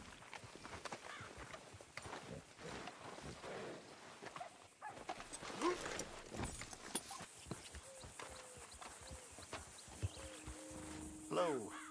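Horse hooves clip-clopping at a walk in Red Dead Redemption 2, with irregular near steps over a game ambience and occasional voices talking.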